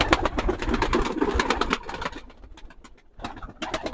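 Pigeons in a loft, including Akkuyruk and Karamamba breed chicks, make a busy, close-up stream of coos and fluttering that eases briefly before picking up again, with no talking.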